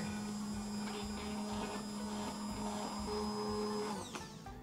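An immersion blender whirs steadily while mixing homemade lotion, a constant high-pitched motor whine that holds nearly to the end, then winds down in the final half second.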